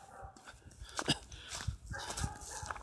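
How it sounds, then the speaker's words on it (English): A dog barks a few scattered times in a neighbor's yard, faint and distant, over quiet background noise. "a dog's going in a neighbor's yard. It's gonna start barking at nothing."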